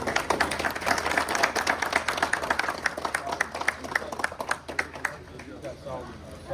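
Guests applaud at the opening of the Yeniceoba Cultural Centre in Sweden, a moderate burst of individual claps that thins out toward the end, with voices mixed in.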